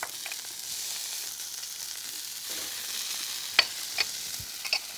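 Unsalted butter goes into a hot pan with a searing ribeye steak, giving a steady, even sizzle and crackle with a few sharper pops and spits near the end, and no talking.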